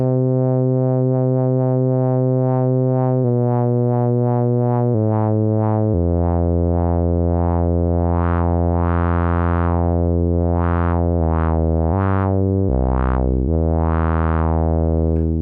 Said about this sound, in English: So I can approximate like a sine wave LFO, but then I can tweak it slightly.